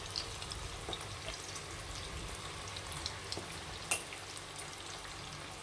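Onion pakoda batter frying in hot oil produces a soft, steady crackle and bubbling sizzle, fairly quiet and close, with scattered small pops.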